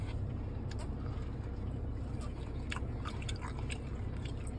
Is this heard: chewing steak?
yes